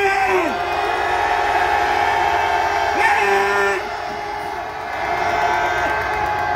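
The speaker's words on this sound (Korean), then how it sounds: "함성 발사!" A crowd at an outdoor youth rally on the eve of the March 1st holiday raising a sustained loud cheer and shouting together, a dense continuous roar that briefly dips midway before swelling again.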